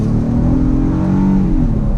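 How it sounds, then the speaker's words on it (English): A 2019 Honda Passport SUV engine accelerates hard from a dead stop, a loud, steady, buzzy drone with rising pitch throughout, close and alone without talk. "The only problem is the buzzing from the engine. It gets really buzzy"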